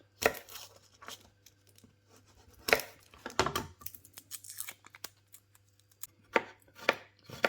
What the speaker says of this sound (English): so it's quite coarsely chopped, the garlic